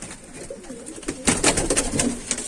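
A white homing pigeon coos softly in a small coop, low throaty calls repeating through the second half over faint background rustling.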